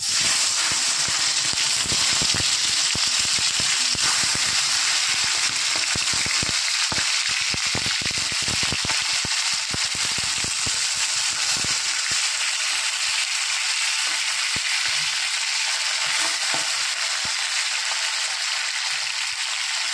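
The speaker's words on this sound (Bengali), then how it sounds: "এদিকে তেল গরম হয়ে গেছে, এক এক করে মাছগুলো ছেড়ে দেবো।" Pieces of foli fish frying in hot oil, a loud, steady, dense sizzle and hiss that runs unbroken, with scattered crackling pops, and no talking.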